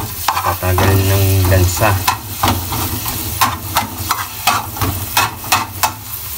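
Ginger sizzles and frys in a pan over medium heat as the first step of ginataang langka, with steady crackling and stirring scrapes throughout and a brief spoken phrase near the start.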